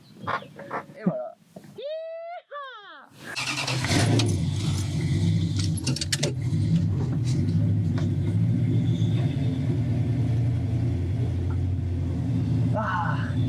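After some rustling and a whining starter, the big V8 engine of a 1970 Dodge Charger catches and settles into a deep, loud, steady rumble nearby, with a voice briefly audible.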